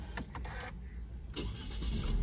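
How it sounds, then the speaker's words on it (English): A 2021 Chevrolet Captiva engine cranks and catches close up, a short whirring start that settles into a low steady idle, with a faint click beforehand and no talking. "Then I start the car."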